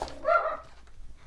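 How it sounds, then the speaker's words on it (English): A single short dog bark, fairly close, followed by quiet room noise. "Sorry about the barking."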